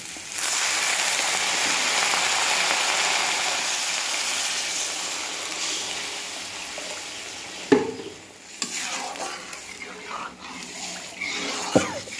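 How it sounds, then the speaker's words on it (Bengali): Water goes into a hot pan of lightly fried rice and mung dal, giving a steady loud hiss and sizzle that later breaks into a few clattering knocks and stirring sounds near the end. "তো এখন আমি এখানে দিয়ে দেব জল।"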